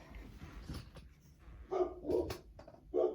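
Several dogs bark in short bursts indoors in a house, near and fairly loud, a few sharp woofs clustered together after a quieter stretch of background noise.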